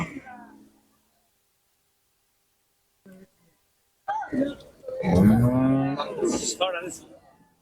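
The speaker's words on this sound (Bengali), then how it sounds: "জার্সি গরু না?" A Jersey cow moos loudly up close, a long low bellow that rises and falls, after a brief faint call and a short pause.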